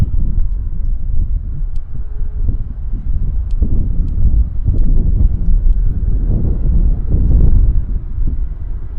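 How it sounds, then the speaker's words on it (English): Gusting wind at Vancouver Airport (YVR), with gusts to 16 reported by air traffic control, rumbles and buffets steadily across the whole stretch, loud and low, with no talking. "The winds are gusting to 16 according to ATC, so we might get a bit of wing wobble."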